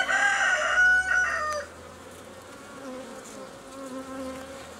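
Honeybees at an open hive hum in a dense buzz that fades after a second or so, leaving a quieter, lingering drone of insects nearby.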